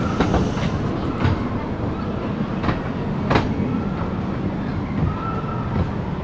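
The Pleasure Beach Express amusement park train at Blackpool Pleasure Beach rolls along its track with a constant rumble, periodic clicks and clacks from the wheels, and a brief faint squeal near the end.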